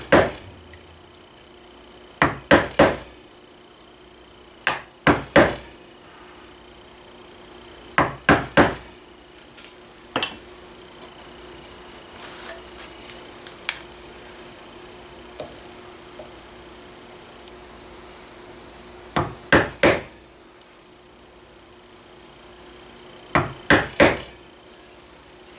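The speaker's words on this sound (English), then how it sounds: "this is all straight cuts with this chisel" Mallet blows drive a chisel through wood while shaping a gunstock, sharp knocks mostly in quick pairs and triples separated by pauses, close and crisp with quieter scrapes between.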